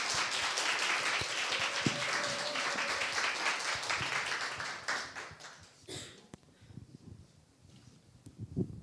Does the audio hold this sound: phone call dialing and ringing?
no